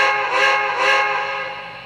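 A model steam locomotive's whistle, on an MTH Premier B&O Heavy Pacific, gives the reverse signal: two quick toots in succession, the tone holding steady with a slight fade at the end.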